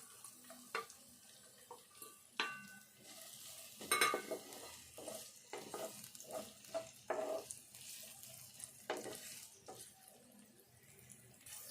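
Flattened rice fries in a pan with finely chopped green chilies and onions, giving a quiet, ongoing sizzle broken by scraping and stirring clatters, with a short metallic burst around the middle.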